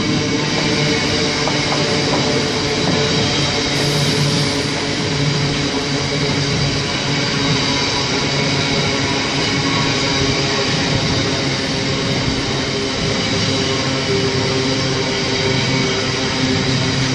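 A Class 66 diesel freight train, 66752, running from Liverpool to Drax passes through Warrington Bank Quay station with a loud, continuous rumble and rolling wagon noise that stays steady for the whole stretch.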